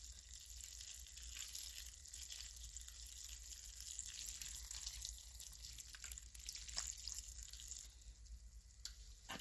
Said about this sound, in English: I couldn't talk and pour at the same time because this is hot.